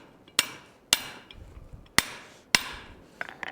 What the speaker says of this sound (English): We'll start hammering on it.